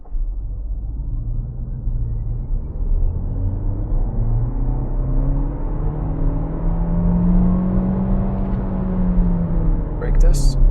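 A 2025 MG ZS Hybrid+ held on the brake with the accelerator floored, its engine droning steadily and climbing slowly in pitch under a low rumble, loud and close from inside the cabin.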